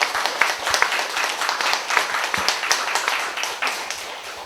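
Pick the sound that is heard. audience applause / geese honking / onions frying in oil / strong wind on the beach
audience applause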